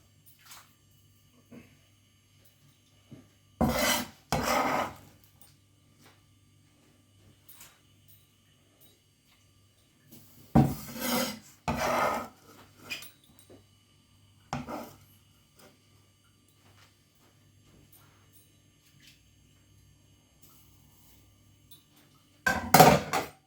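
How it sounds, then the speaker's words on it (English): Ingredients for a northern-style broth stock are dropped into a pan in a few separate bursts of clattering and thudding, with quiet gaps between them and no talk. "So I'll get these into the pan."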